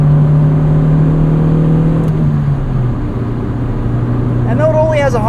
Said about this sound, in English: It's perfectly happy revving out.